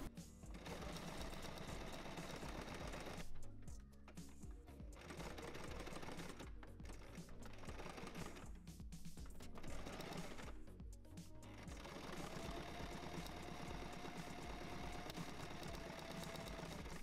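A sewing machine top stitches a seam on an old tracksuit being remade into a skirt, running in a steady fast whir with a few brief stops and restarts.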